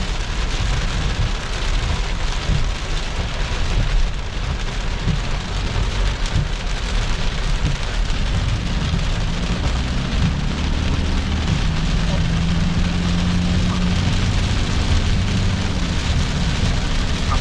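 Heavy thunderstorm rain pours down on the Chiang Mai–Chiang Rai highway near Wiang Pa Pao, drumming loud and unbroken on the car, with traffic rumble beneath and a voice briefly talking.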